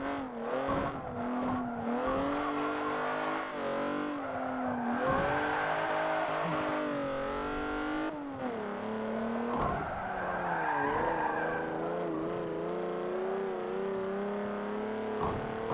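A Cadillac limousine in the racing game Forza 7 strains its engine in a steady, droning rev with shifting pitch, punctuated by tire squeals and brief dips as it is driven through turns, loud and close without talk.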